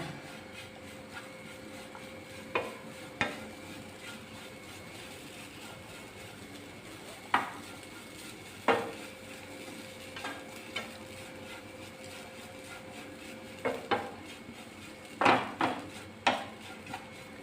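One and a half cups of grated coconut stirred in a hot pan on the stove: sparse, irregular scrapes and clinks of a spoon against the pan over a low steady background, with no voices.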